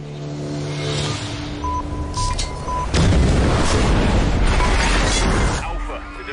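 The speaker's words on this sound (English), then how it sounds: "Alpha, the device has detonated." A detonated device explodes in an action film scene, a sudden heavy boom bursting out of an already dense backdrop of engine roar and tense score, followed by sustained rumbling debris noise for several seconds.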